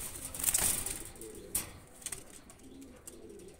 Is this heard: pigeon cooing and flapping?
yes